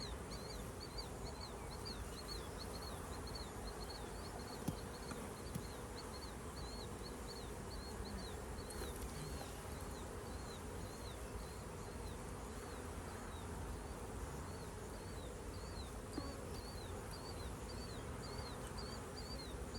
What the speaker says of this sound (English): There's a wasp. Let me kill you.